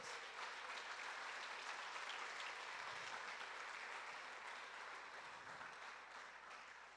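A church congregation breaks into steady, dense applause heard from a distance, rolling on for several seconds before tapering off slightly toward the end, with no voices over it.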